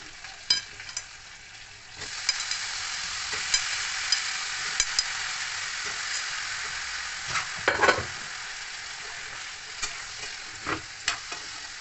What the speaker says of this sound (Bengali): আদাটা একটু ভাজা ভাজা হয়ে গেলে